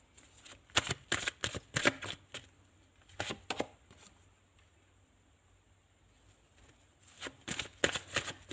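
A deck of tarot cards being shuffled up close in quick riffling bursts, a pause of near quiet in the middle, then another brisk run of shuffles.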